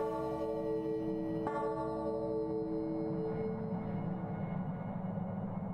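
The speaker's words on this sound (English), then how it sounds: "It's making a grandfather clock sound." Grandfather clock chime played from a speaker in the horror video game Without Escape, a struck bell tone at about one and a half seconds over a sustained humming drone, ringing and slowly fading, quiet and alone.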